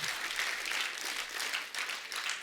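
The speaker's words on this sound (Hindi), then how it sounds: "पर यार ये तालियां बनती यार" A studio audience at a comedy talk show claps continuously, a bright, fairly faint wash of many hands with slight swells and dips throughout.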